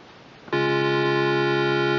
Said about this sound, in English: that sound you hear right now is the chord